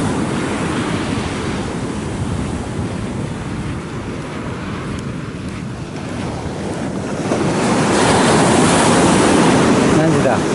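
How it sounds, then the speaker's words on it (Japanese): Rough, high waves surge and crash at a beach near Dawei, a loud continuous roar mixed with heavy wind buffeting the microphone, swelling stronger toward the end. "結構波は、うん、荒そう、高そう"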